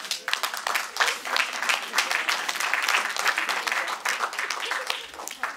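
A church congregation claps in a dense, sustained burst of applause that fills the room, with voices calling out among the clapping.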